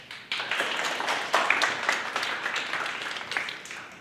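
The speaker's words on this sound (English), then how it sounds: "give me a quick round of applause" A short round of audience applause at a confident-speaking workshop, dense overlapping claps starting abruptly and holding steady for a few seconds at moderate loudness.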